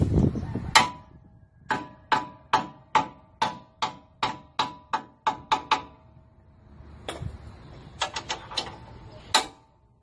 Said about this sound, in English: So you should use a hammer to do any kind of impact.